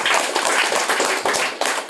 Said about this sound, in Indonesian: Tepuk tangan buat Pak Segek